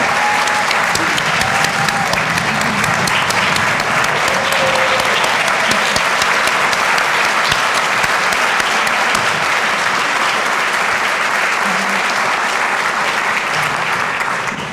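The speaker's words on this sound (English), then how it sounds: "let's give a warm applause to all of these inaugural Women of Excellence" Loud, sustained applause fills a business luncheon honoring minority- and women-owned businesses, with dense clapping holding steady for about fifteen seconds before tapering at the very end.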